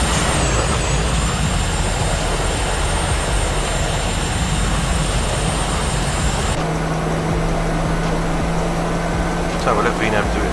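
Boeing 737-300 jet engines in X-Plane 12 spool up into a loud, steady roar that fills the whole stretch, with a whining tone that drops and settles partway through.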